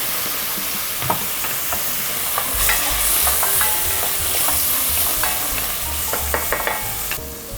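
Brandy and sauce for coq au vin bubble and sizzle in a Dutch oven, a steady loud hiss with occasional pops and light clinks throughout.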